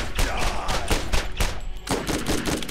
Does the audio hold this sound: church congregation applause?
no